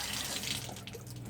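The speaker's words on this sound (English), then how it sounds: "You can see it's running water, sputtering a little water." Water running from a tap into a bathroom sink in an RV being winterized with air, a steady faint hiss with slight sputtering, heard alone for a brief moment.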